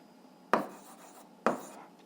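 Pen strokes writing out an algebra solution, two short scratchy bursts about a second apart, close and fairly quiet, with no voices.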